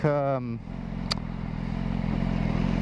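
Idling exhaust of a 2015 BMW S1000RR motorcycle: a steady low rumble and burble that continues alone after a brief opening bit of talk, with one sharp crack-like pop near the start.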